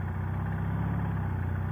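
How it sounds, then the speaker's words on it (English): A Martini Racing sidecar motorcycle engine idles with a steady, low, even rumble, close by and alone, after clutch cable adjustments. "There we go, I got it idling a little better."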